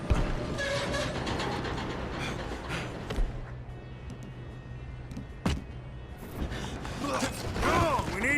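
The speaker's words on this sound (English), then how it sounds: "we need to stop this train" A train running in Red Dead Redemption 2, its steady low rumble and mechanical creaking continuing throughout with clanking bursts, brief voices heard over the rolling noise.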